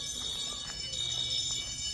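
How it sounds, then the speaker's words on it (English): A fire alarm sounds inside a college building, a steady high electronic tone ringing continuously over faint background noise, heard at moderate loudness. "This might actually be a real fire alarm this time, and not just a false activation."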